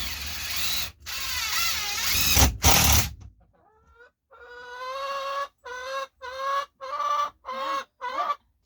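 A hen perched on a person's shoulder at a backyard coop gives a run of close, repeated clucking calls in short bursts, following a few seconds of loud rustling noise.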